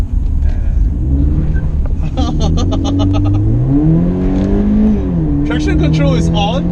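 A Toyota 86 engine revs and rises in pitch as the car accelerates, with a steady loud drone and changing harmonics, heard from inside the cabin.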